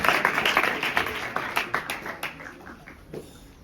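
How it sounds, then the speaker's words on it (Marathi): A school audience claps together at an event, producing a burst of dense applause that is loud at first and then thins and fades into scattered claps. "आपण सगळेजण टाळ्या वाजवूया सरांसाठी."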